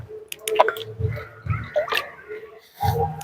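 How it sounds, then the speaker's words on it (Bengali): Water with soaked mustard cake is poured onto vegetable plants in a rooftop garden, giving a few separate wet splashes and squishy drips on soil in short bursts close by. "সরষের খোল ভেজানো জল দিচ্ছি"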